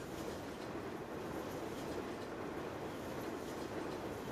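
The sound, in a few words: train passing in Farming Simulator 17, video game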